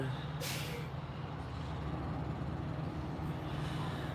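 A truck on a driving test, tester riding in the passenger seat, gives one sharp burst of air-brake hiss early on over a steady, low engine drone that continues throughout.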